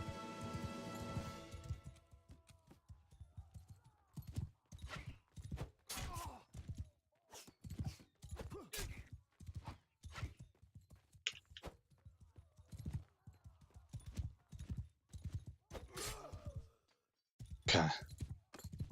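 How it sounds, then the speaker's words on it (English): Desert horse galloping in Mount & Blade II: Bannerlord, with a steady run of loud, close hoofbeat clops across the whole stretch, broken briefly by a short whinny near the end. "I have a desert horse now, so I'm faster."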